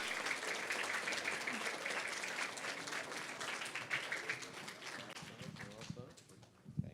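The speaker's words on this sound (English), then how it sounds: "Please give me a big round of applause." A conference audience applauds as two guests are welcomed onto the stage at a financial inclusion event, with broad, continuous clapping that thins out near the end and scattered voices underneath.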